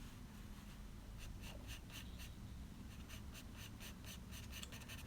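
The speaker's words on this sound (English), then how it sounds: "Just using the darkness of the charcoal pencil to really build up some dark contrasts" A charcoal pencil scratches across drawing paper while shading a portrait, a steady close rasp with quicker rhythmic strokes building up in the second half over a low background hum.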